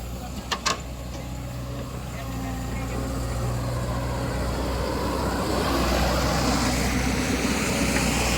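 A sand delivery truck rumbles along a road beside a river, its engine noise building from a low drone into a steady, broad roar with some wind rush and a few brief knocks early on.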